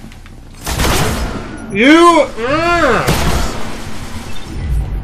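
Shotgun blasts in the online shooter Destiny, a few loud booming shots close together, heard under an angry player's shouting.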